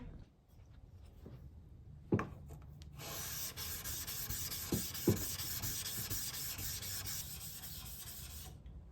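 A forged knife bevel is rubbed on a 1000 grit sharpening stone, a close, steady abrasive scraping that starts after a few quiet knocks and continues evenly to the end.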